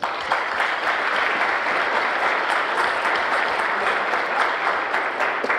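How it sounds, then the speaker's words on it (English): Steady, full audience applause at a JROTC military ball, many hands clapping in a continuous wash that holds evenly throughout without fading, with no talk over it. "if you can please join me in applause"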